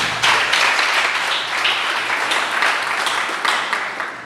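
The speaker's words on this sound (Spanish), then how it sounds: "Denle un aplauso a Dios por eso." A church congregation applauds together, a steady burst of clapping that swells and holds for several seconds with no talking over it.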